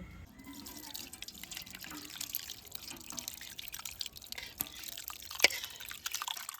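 Water drips and trickles from freshly made cheese curds strained through a sieve, a faint, steady patter with one sharper drop near the end.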